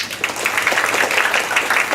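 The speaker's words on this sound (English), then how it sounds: "can you round of applause?" A small audience at an entrepreneurs' summit panel claps briefly and fairly loudly, a short patter of hands with uneven bursts.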